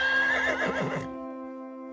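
A horse whinnies loudly in a cold setting in the Minecraft-style game Ore Quest Prime, one wavering neigh lasting about a second, then it cuts off and a steady musical drone lingers.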